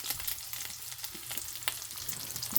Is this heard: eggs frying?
yes